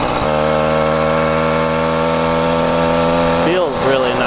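A YD100 two-stroke engine on a motorized bicycle idles low and steady with a droning, even hum, running rich, then briefly revs and dips near the end.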